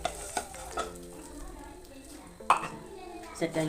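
Vermicelli stirred and roasted in hot ghee in a pan for a tender coconut pudding, soft sizzling under repeated scraping and clinking of a spoon against the pan, fairly quiet and close.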